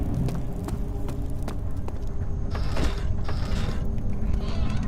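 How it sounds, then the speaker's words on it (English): Machinery in a room in the horror game Amnesia: a steady mechanical hum with dense, irregular clicking and creaking ratchets, and a brighter grinding swell midway, continuous throughout. "I do hear machinery in here"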